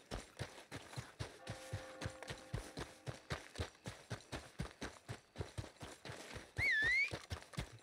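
Horse hooves clip-clop in a steady rhythm of many even beats in the Red Dead Online video game, close and clear, with a horse's whinny near the end.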